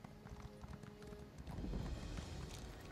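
Horse hooves clip-clop in Elder Scrolls Online, soft and fairly faint, with a steady trotting rhythm that grows fuller and busier in the second half.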